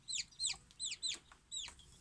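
A two-and-a-half-week-old chick makes five or six short, high chirping clucks in quick succession, close but fairly quiet, with no talking.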